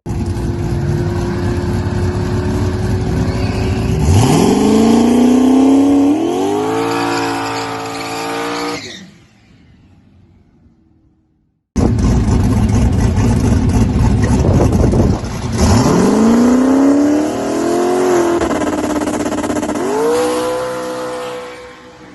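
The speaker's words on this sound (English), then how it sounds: "let's crank the RPMs up and give her hell. And turn the boost way up, big dome pressure" A turbocharged drag car with the boost turned way up and high dome pressure revs hard at high RPM, its loud engine note climbing and wailing, cutting out briefly, then screaming back through a second rising pull.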